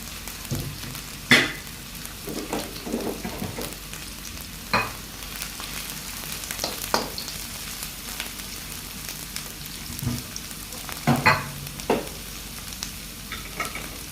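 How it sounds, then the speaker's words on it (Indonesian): Tempeh sizzles steadily in hot oil in a frying pan, broken by occasional scrapes and clinks of a utensil stirring the pan; no talking. "di sini untuk tempenya ini saya goreng dulu."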